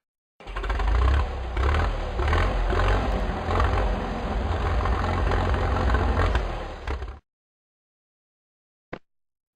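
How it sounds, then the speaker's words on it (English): A tractor engine runs steadily for about seven seconds, a loud, broadband mechanical drone with strong low rumble, then cuts off abruptly into silence. "Tractor."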